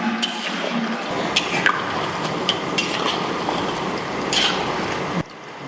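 Khaja pastries sizzle steadily in hot oil, a close, continuous hiss with a few sharp crackles and pops scattered through it.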